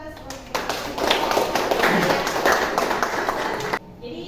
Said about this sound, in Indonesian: kalau begitu kita berikan aplaus